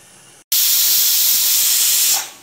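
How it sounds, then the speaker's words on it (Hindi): A loud, steady hiss of steam blasting from a pressure cooker whistle while cooking jeera rice with carrots, starting abruptly and holding for about two seconds before tapering off. "अब हम कुकर सेट कर देंगे और एक सीटी आने देंगे।"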